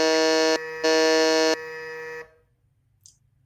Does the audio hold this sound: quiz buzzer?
yes